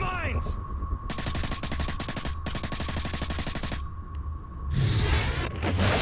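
Rapid automatic gunfire in Modern Warfare 3, aimed at mines: two long bursts of evenly spaced shots, loud and near, broken by a brief gap, followed by a rushing burst of noise.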